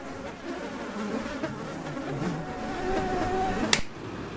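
Mosquitoes buzz in a close, thin, wavering drone that drifts in pitch, moderately quiet, ending with a sharp snap-like click near the end.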